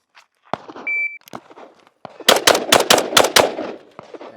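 Steyr AUG rifle firing a rapid string of about seven sharp, loud shots in quick succession, preceded by scattered handling clicks, a mechanical clack and a brief electronic timer beep.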